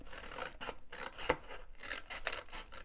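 Scissors snip small wedges from paper for a cupcake display box craft, a quiet run of several close crisp cuts in an uneven rhythm with no talking.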